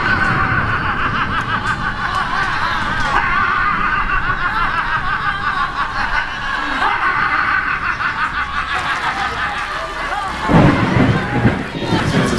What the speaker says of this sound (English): it started lightning and flashing and thundering everywhere